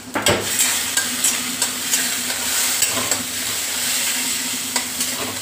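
Ginger and garlic fry in melted butter over lowered heat, a steady sizzle with repeated scraping stir strokes and light clinks throughout, close and fairly loud.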